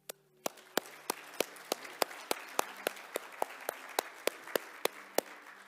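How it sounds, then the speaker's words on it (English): Church congregation applauding during a Sunday service, heard as sparse, evenly spaced claps, about seventeen sharp hits in a steady rhythm, fairly faint and distant. "Let us give God the praise through our applause of how God used us this year."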